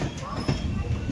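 A Konkan Railway passenger train runs between Mumbai's Chhatrapati Shivaji Maharaj Terminus and Vaibhavwadi Road, giving a steady rumble and rattle heard from inside the carriage while people talk.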